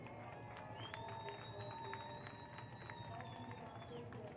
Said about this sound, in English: let's give a big round of applause to our official escorts for the Houston Livestock Show and Rodeo Parade, the Houston Police Department